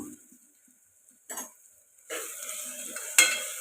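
Curry leaves hitting hot oil in a pan of natu kodi (country chicken) curry, giving quiet scraping followed by a bright burst of sizzling that keeps crackling, with one sharp clink of a utensil.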